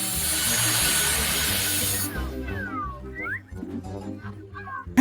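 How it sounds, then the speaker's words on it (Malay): A hand saw cuts through a hard piece with dense rasping strokes for about two seconds. Then the sawing stops, leaving quieter scraping and a few short squeaks. "Baiklah, saya akan ambil gergaji"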